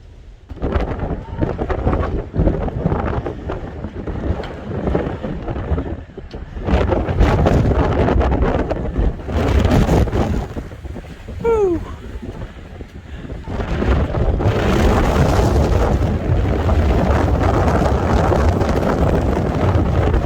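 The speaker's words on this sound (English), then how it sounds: "Today because it is ridiculously windy" Strong wind buffets the microphone in loud, continuous gusts with a low roar, rising and falling throughout, no speech audible.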